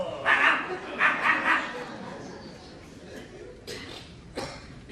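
A dog gives a few yipping barks, closely spaced and fairly near, followed by quieter whimpers and a couple of faint scuffs, with room tone between them.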